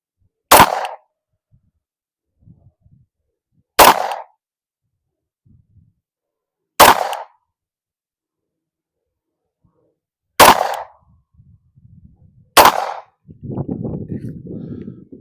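Five sharp, loud pistol shots from an HK VP9X crack out one at a time with a few seconds of near silence between them at a 15-yard range lane, followed by faint shuffling and rustling.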